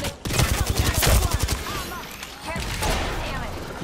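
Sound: gunfire in Apex Legends video game

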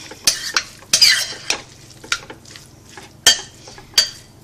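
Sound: mixing cream cheese filling for roll-ups

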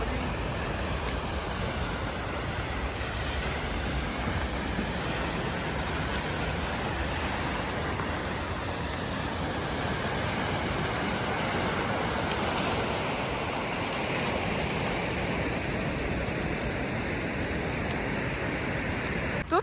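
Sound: waves on a shore in Toronto

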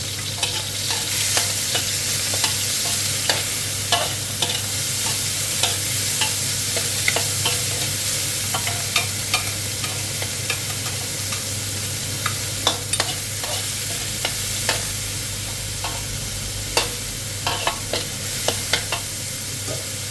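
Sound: stir-frying pork in a pan until cooked

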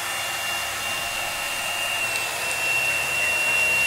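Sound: hair dryer running

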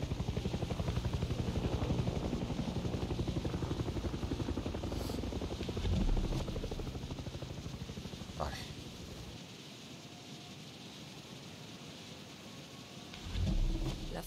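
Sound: helicopter in video game Far Cry 6

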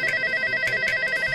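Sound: telephone ringing for a call

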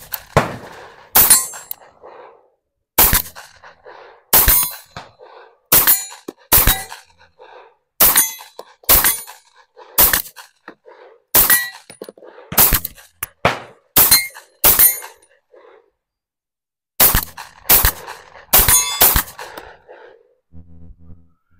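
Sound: gunfire from Tisas 1911 Carry B9R 9mm pistol, Federal ammo

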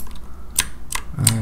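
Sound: pressing Alt key and left-clicking on a computer

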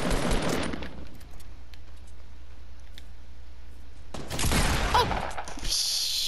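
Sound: gunfire from a gun in a video game

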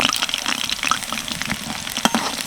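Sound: chili rolls frying in oil

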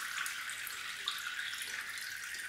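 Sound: water draining out of a toy G.I. Joe APC

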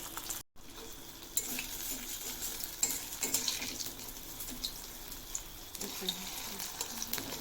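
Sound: water lily flower fritters frying in a pan

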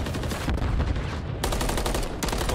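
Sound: pistol gunfire burst in video game Call of Duty

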